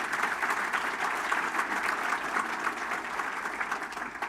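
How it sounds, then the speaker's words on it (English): A large audience at Bloomington's 2024 State of the City address breaks into dense, sustained applause, a loud, even wash of clapping from start to finish. "So let's give them a round of applause as well."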